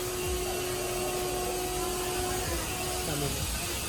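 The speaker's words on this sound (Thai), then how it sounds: "โอ้ยรถไฟมาแล้วจริงๆด้วยนอกเสียงรถไฟน่ะ" A loud, steady rumbling roar of a train arriving at a small-town station in rural India, with a sustained whining tone, filling the whole stretch without a break.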